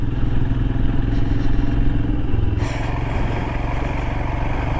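Steady mid-pitched Royal Enfield Himalayan motorcycle engine drone rumbles throughout, with a slight shift in tone partway as the bike rides off-road on rough ground.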